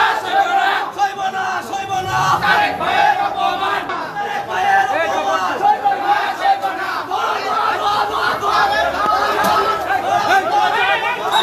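A large crowd of ordinary people chants slogans in front of the Chief Judicial Magistrate court in Bogura, the loud rhythmic shouting and chatter carrying steadily throughout at close range.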